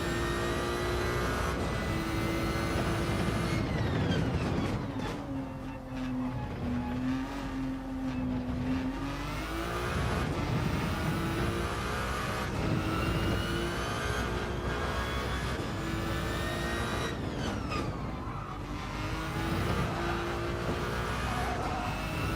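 A Gran Turismo 7 hypercar race car powers out of a corner, its engine note climbing steadily through several gear changes over about twenty seconds, loud and continuous with no talking.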